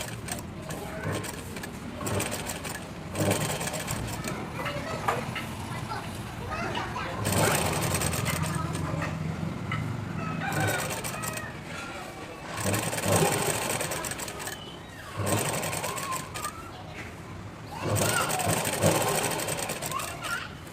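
A sewing machine stitches the neck band of a plain blouse in several bursts of rapid whirring and clatter, close up, with pauses between runs and someone talking throughout.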